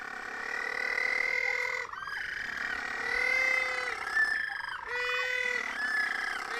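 Little blue penguins calling in their colony at night at Oamaru, New Zealand, several loud, drawn-out braying and screeching cries that overlap in waves, with brief lulls between bouts.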